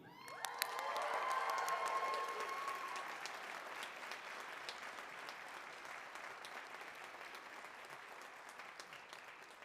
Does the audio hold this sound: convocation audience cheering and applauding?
yes